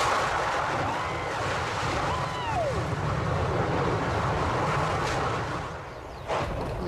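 Volcanic fissure vents in Hawaii roar with a continuous, powerful, broadband rush, like a jet engine or heavy surf, loud and unbroken, dipping slightly near the end.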